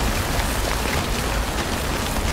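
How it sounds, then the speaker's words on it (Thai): Steady rain falls in the video game Death Stranding, a dense, even hiss of drops hitting surfaces that holds without pause, fairly loud and with no talking over it. "โอ้ฝนตก"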